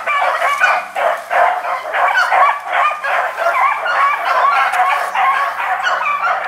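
A black hunting dog barks repeatedly in quick, excited bursts, loud and close, with yips mixed in, as it trails its quarry to a hole during a kennel hunt.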